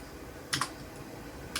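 A couple of quick keystrokes tapped on a computer keyboard, soft and close, in a quiet room with no talking.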